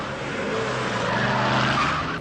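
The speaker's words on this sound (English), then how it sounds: "Al and Elmo tear off in their new car" Car from the film Stingray tearing off with loud skidding, squealing tires and a roaring engine, sustained and close throughout.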